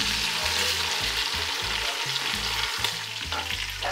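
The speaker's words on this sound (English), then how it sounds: "We're searing the outsides of the meat on high, as you can see" Beef for a Cuban pot roast (boliche) sears over high heat in a pan, giving a loud, steady, close sizzle that runs unbroken throughout with no talking.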